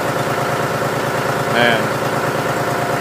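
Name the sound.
John Deere 5103 diesel tractor idling after a cold start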